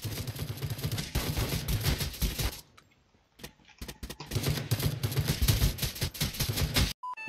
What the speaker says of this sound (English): It's an auto sniper.